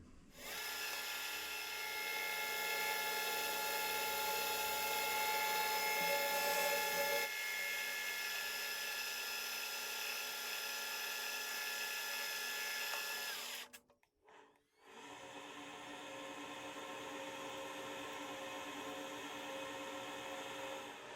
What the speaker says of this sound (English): Now there's two M4 holes to be tapped.